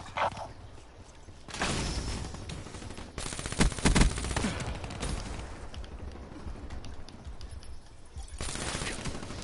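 Shotgun fire in a free-for-all shooter video game: several loud, sharp blasts land at irregular intervals, with a dense cluster midway, over steady game background noise.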